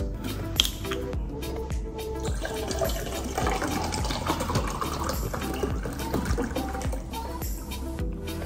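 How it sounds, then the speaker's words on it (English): Water poured from a bottle into a glass cup, a steady close trickle and splash of liquid that runs for several seconds with no talk over it. "So I'm just gonna pour my water into this cup"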